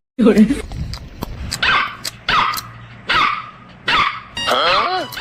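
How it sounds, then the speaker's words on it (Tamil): A puppy barks and yips repeatedly in short, loud bursts close by, with whimpering notes between barks and people talking around it at home. "ஏன்டா பப்பி கத்திக்கிட்டே இருக்கு?"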